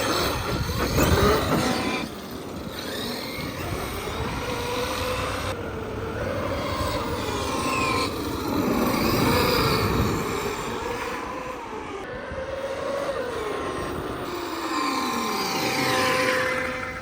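A Traxxas X-Maxx RC truck fitted with a big Castle 2028 motor revs hard outdoors, its electric whine rising and falling in repeated sweeping pitch bends over a steady rumble of tires and drivetrain.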